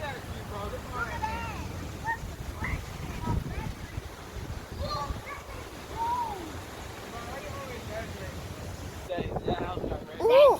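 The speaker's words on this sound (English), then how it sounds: "It's windy." Hurricane Laura's wind roars and buffets the microphone outdoors among damaged houses, gusting steadily for several seconds while people talk.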